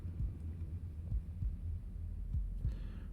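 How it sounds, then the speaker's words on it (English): Heartbeat sound effect in the space game Starsector, a low, muffled throbbing pulse repeating steadily over a soft hum. "Just enjoy the heartbeat sounds."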